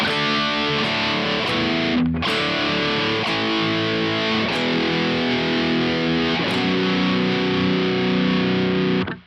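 Heavily distorted seven-string electric guitar with Fishman Fluence pickups sustains thick, buzzing chords, with a few sharp pick attacks and string changes, played alone without talk.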